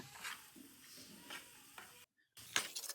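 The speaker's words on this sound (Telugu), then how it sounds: "ఆ తర్వాత టేస్ట్కి సరిపడే ఉప్పు వేసుకుని దీనిని మంచిగా ఇలా ఫ్రై చేసుకోవాలి" A spiced chicken gravy base with chili powder and salt frying in a pan: quiet, soft sizzling with stirring scrapes, a short silent gap, then louder scraping near the end.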